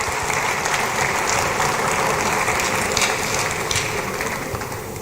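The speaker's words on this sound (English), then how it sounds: "Give a clap to GETFund." An audience at a stakeholder forum claps for an education fund, a loud, sustained crackle of many hands that stays steady for several seconds before easing slightly.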